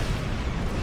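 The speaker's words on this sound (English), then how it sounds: "Big explosion." A big explosion in the space combat game Star Trek Online, a dense, loud, low rumbling blast filling the whole short moment with no talk.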